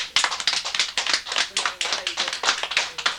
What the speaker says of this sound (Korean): 알면 박수 쳐라